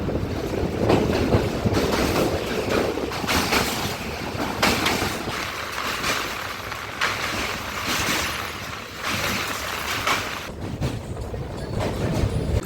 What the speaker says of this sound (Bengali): ট্রেন এবার মহানদী পেরোচ্ছে, যার পাড়েই কটক শহর।